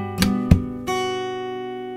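Fingerstyle acoustic guitar playing part of a pattern: two quick percussive thumb-slap hits followed by an open first-string note ringing out and slowly decaying, close and solo.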